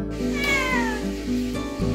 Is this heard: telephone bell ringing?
no